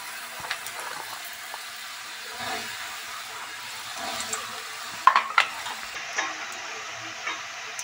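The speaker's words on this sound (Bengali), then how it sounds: "এবার আমি ময়দার যে চুষিগুলো সেইগুলোকে ভেজে নেব হালকা।" Small hand-rolled flour chushi dumplings lightly fry in a wok, giving a steady close sizzle with stirring scrapes and a few sharper clinks near the middle.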